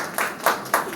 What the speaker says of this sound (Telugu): వారి బిడ్డలు సార్ చప్పట్లు కొడతాం